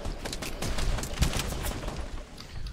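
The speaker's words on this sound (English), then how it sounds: "Where's the kid shooting us?" Gunfire in the video game Fortnite, a dense burst of rapid shots and sharp cracks with one heavier blast midway, loud and close with no talking over it.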